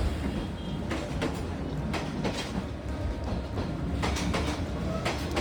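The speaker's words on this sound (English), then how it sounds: "came here to witness a train passing by so closely from a cafe" A train passing very close to a cafe in Hanoi, Vietnam, a steady loud rumble with rhythmic clattering of wheels and cars rolling by at close range throughout.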